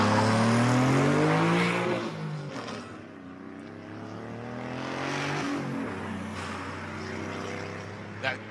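A turbocharged 2012 Ford Mustang races up the Pikes Peak hill climb, its engine note rising and falling through gear changes, loud at first and then easing back into a steadier drone.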